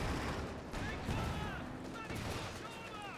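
Panzer IV tank fire in the strategy game Company of Heroes 2, heard within a dense, continuous wash of battle noise with booming shots and rumbling explosions throughout.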